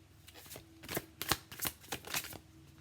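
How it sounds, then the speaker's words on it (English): Tarot cards being shuffled by hand, a run of crisp riffling bursts and soft slaps, close and fairly loud, with no talking. "I've seen it twice so far while shuffling."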